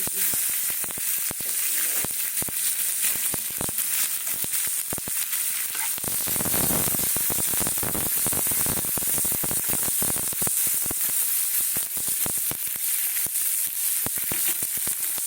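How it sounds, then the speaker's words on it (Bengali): Cumin seeds and black pepper crackle and sizzle steadily in hot oil left from frying prawns, a dense, continuous spitting hiss with sharp pops throughout, close and loud, with no voices. "এ দেখো জিরে আর গোলমরিচ দিয়ে দিলাম"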